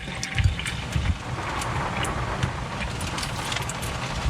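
Water runs steadily from a tap in an RV's onboard water system, a close, continuous hiss and trickle with a few small knocks and splashes near the start, rain and storm conditions outside.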